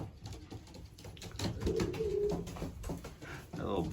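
Racing pigeons coo softly in their loft, with low, rolling calls rising under a voice and shuffling movement. The birds stay quiet and at middle distance.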